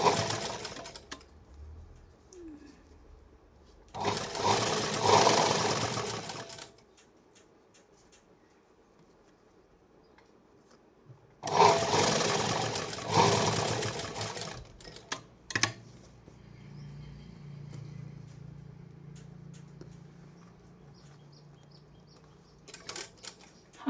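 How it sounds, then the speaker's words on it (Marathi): A sewing machine stitches a patch onto a blouse sleeve in two steady, fairly loud runs of several seconds each, separated by quiet pauses, with no talking. "परत एकदा आपल्याला एकदम कड्याने शिलाई द्यायची"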